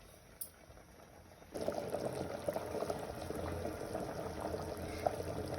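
After a brief quiet moment, a pot of rice starts boiling with a steady bubbling and gurgling that carries on evenly to the end.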